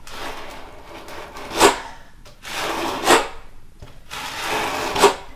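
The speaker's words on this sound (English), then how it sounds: "you can just use a drywall knife to press it in place" A drywall knife presses Kerdi-Band waterproofing tape into thinset on a bathtub surround, making three slow, scraping strokes that each end in a brief, louder rasp.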